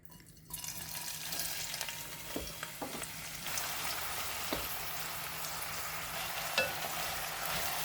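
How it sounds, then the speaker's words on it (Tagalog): Sliced onion frying in oil, a steady, close sizzle that begins abruptly after half a second and continues evenly, with a few faint stirring knocks under it. "Now let's fry our sliced onion."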